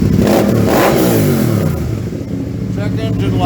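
A 2012 Can-Am Spyder RS-S three-wheel motorcycle with Stage 1 tuning revs loudly up and down close by, its engine note rising and falling over a couple of seconds while someone talks over it.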